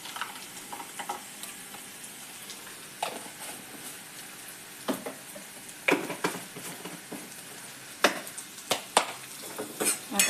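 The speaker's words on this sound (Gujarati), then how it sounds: "આ કાંદો ફ્રાય થઈ ગયો છે." Onion frying in a pan for mung dal, a soft steady sizzle broken by sharp scrapes and clinks of a spoon stirring against the pan, close and fairly quiet.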